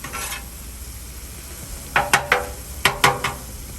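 Metal spatulas chop steak meat for Philly cheesesteaks on a sizzling flat griddle, five sharp scraping clacks in two quick clusters over a soft steady sizzle.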